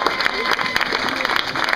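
Audience applauding the organiser Olivier at a singing talent show evening, steady dense clapping throughout under a murmuring crowd, with voices mixed into the noise.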